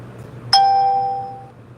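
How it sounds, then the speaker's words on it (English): A single bright electronic ding of a notification alert, sharp onset followed by a clean ringing tone that fades over about a second, close and clear over a faint background hum. "Gotta turn those notifications off."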